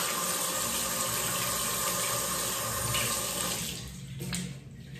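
Tap water runs steadily into a sink as a man washes his face, a loud continuous splashing that eases off and thins out near the end.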